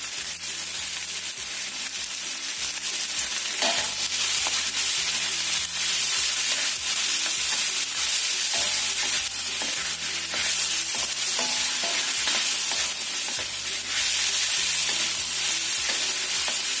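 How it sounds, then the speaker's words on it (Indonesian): Chicken pieces being stir-fried in a pan alongside meatballs, a steady loud sizzle and frying hiss running throughout with no talk over it. "Tumis sampai daging ayamnya itu agak layu."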